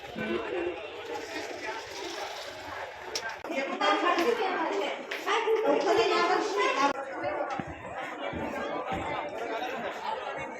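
Crowd chatter at the Shegaon temple of Sant Gajanan Maharaj, a steady murmur of many voices nearby with footsteps and occasional claps, swelling louder midway and settling again.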